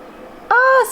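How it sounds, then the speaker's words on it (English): A single bright bird chirp rings out outdoors, close and clear for a fraction of a second, followed by a faint high twitter over a quiet background. "you can literally hear the birds chirping"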